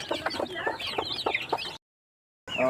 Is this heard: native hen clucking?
yes